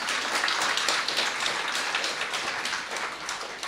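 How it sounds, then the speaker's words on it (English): Audience applause at a live charity event in Johannesburg, a dense, steady wash of many hands clapping that carries on evenly without pause or any voices. "Don't you guys clap here too?"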